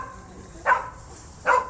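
A dog barks twice, about a second apart, at moderate distance in an outdoor garden setting in Kuwait, each bark a short sharp burst over quiet background.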